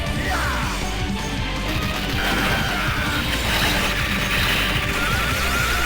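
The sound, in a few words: grenade explosion in Metal Slug 5 video game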